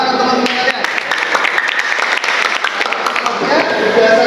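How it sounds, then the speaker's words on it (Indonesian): Students in an Indonesian automotive engineering classroom applaud together, a steady burst of many hands clapping at close range for several seconds, with a voice speaking over part of it. "Tepuk tangan teman-teman sekalian."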